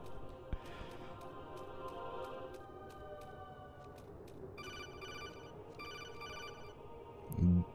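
An incoming codec call ringing in Metal Gear Solid 2: Sons of Liberty, a repeated electronic telephone-like ring pulsing in a steady rhythm over a quiet game background, alone without talk.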